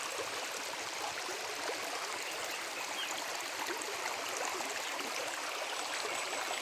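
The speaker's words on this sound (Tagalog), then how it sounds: "Ang daloy ng tubig niya. Yan. Yan ang tubig." Water in a stream rushes and burbles steadily and evenly throughout, a constant moderate-loud wash with no voices.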